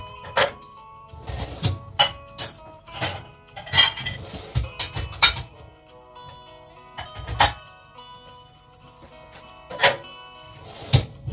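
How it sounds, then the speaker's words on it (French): Dishes and cutlery clink and clatter intermittently as they are loaded into a dishwasher, with sharp ceramic and metal knocks separated by quiet pauses, close by. "La vaisselle, on la met au sale. Dans le lave-vaisselle."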